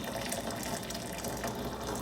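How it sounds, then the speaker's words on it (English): Hot water, two cups' worth, pours steadily into a measuring cup in a home kitchen while making mashed potatoes, a continuous close splashing rush that lasts the whole two seconds with no talking. "I'm going to take 2 cups of hot water and put it into my measuring cup."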